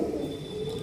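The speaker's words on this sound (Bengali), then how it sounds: "এই সমস্ত পায়রা রয়েছে, দেখো বন্ধুরা তোমরা।" Pigeons cooing softly in a cage kept for flying birds, a low steady murmur of coos running through the whole moment without pause.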